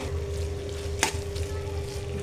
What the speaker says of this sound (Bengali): এখন আমি ধনে পাতা দিয়ে দিচ্ছি, ধনে পাতা দিয়ে ভালো করে মিক্স করে নেব